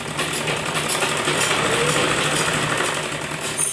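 Sewing machine stitching salwar fabric, a steady continuous motor whir with a mechanical hum, close and even throughout with no pauses.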